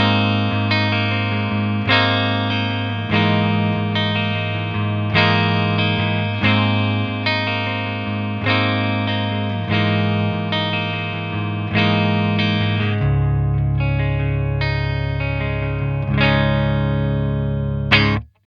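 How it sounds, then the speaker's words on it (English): An Edwards LP-CTM electric guitar on its neck pickup plays distorted, sustained power chords in a steady strummed rhythm. The tone is loud and thick, shifts lower near the end, then stops abruptly. "So yeah, those are the tones of my Edwards LP-CTM."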